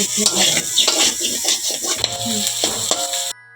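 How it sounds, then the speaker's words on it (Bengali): Fried vegetables for chicken pasta are stirred in a cooking pan, with close, busy scraping and metallic clinks of a utensil against the pan, ending in a sudden drop to near silence. "এখন আমি এর মধ্যে সমস্ত ভাজা সবজিগুলোকে দিয়ে দেব দিয়ে ভালো করে নাড়াচাড়া করে নেব"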